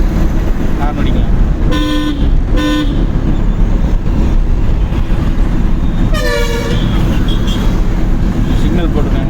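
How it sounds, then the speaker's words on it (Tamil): Several short car horn honks during a driving lesson, two quick beeps and then a longer one, sound over constant road and engine noise, with faint talking underneath. "ஹார்ன் அடிக்கலாம்."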